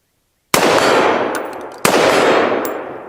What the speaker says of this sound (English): I've got to shoot the barrel. A couple of shots.